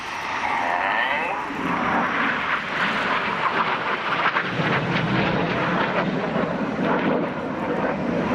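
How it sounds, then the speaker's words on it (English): Red Arrows jets flying the Twister display at the 2015 East Fortune Airshow, a loud sustained jet roar that swells and shifts pitch as the aircraft pass, with wind buffeting the microphone. "Now this 5th jet is going to roll around them a dozen times."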